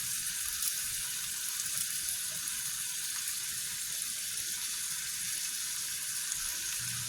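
Spinach sizzling in a hot frying pan, a steady crackling hiss with no talk over it.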